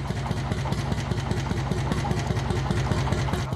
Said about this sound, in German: Wenn der einzige Zylinder dann aber einmal den ganzen Bulldog zum Hüpfen gebracht hat